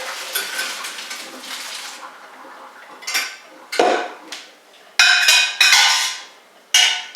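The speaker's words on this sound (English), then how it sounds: "Pour it in our strainer." Hot pasta and water pour in bursts into a metal strainer, splashing and hissing, with clanks of the pot in between.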